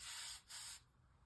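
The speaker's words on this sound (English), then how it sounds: "I'm preparing my surface by spraying it with water" Water is sprayed onto a backer-board work surface in two quick, close, soft hissing bursts, with quiet afterward.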